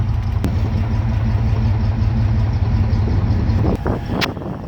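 A 1957 Ford Thunderbird 312 V8 idles steadily with a deep, even rumble and no noticeable miss, close and loud, with a brief rev-like swell near the end.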